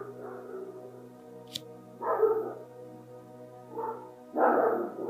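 Dogs bark in the background, three muffled bursts sounding a little distant over a quiet steady hum, with one brief click before them and no talking.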